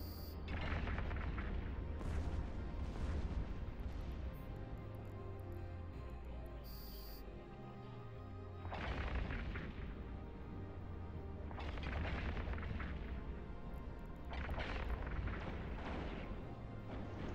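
Repeated heavy booming weapon fire from EMP ammunition in the space game EVE Online, several bursts spread across the stretch over a steady low rumble, with no talk.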